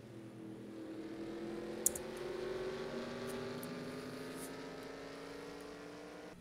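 Race cars lapping the Watkins Glen road course in the NR2003 racing game, a steady engine drone with rising and shifting tones as cars pass, with a faint click midway.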